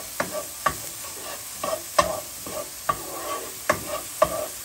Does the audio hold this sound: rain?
no